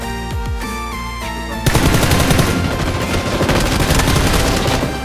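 Rapid automatic gunfire erupts in a PUBG match, a loud, dense burst of shots that keeps rattling for several seconds after a brief lead-in of game sounds.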